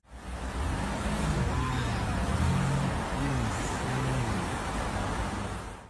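City cars pass nearby, a loud, continuous roadway roar with engine hum rising and falling as vehicles go by, with no voices over it.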